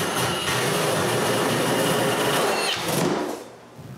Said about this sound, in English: Now I can drill the cardboard.